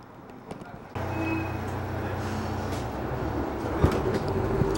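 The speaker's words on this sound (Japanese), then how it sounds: "この路線は単線につき対向列車との待ち合わせのため一旦停車をするようです" A train on a single-track line pulls in and halts at a station to wait for an oncoming train, its steady low rumble and humming motor rising abruptly, then running on with a few clanks and knocks, close by.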